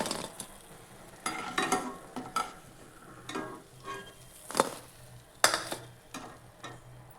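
Fried kadhi bhaji being lifted out of hot oil, with soft frying sizzle and a series of clinks and scrapes from a slotted spoon and pan, close and fairly quiet, no talking.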